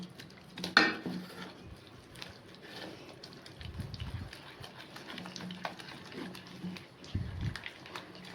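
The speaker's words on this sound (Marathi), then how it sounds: "तर हे छान मिक्स करून घेऊया आता आपण." A spoon works through thick gram flour batter for aluwadi in a bowl, giving soft scraping and clinking against the sides in a slow, uneven rhythm, faint and close, with one sharper knock early on.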